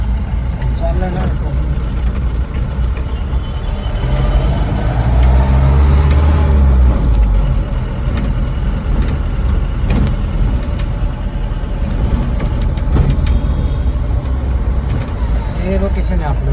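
A car's low engine rumble and road noise run steadily beneath ongoing talk as it arrives at a forest getaway location.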